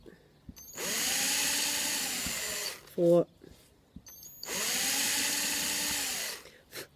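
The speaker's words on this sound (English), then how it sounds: "so that's the drilling done" A power drill whirs in two long bursts, spinning up and down, close by, with a brief spoken word between them, drilling holes for earrings.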